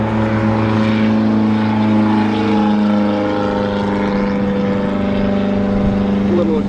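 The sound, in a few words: Ford wagon engine with a massive exhaust leak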